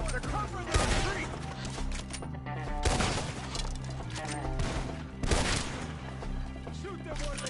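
Gunfire from a Red Dead Redemption 2 shootout comes in heavy, loud bursts of rapid shots and impacts, with shouting voices mixed in throughout.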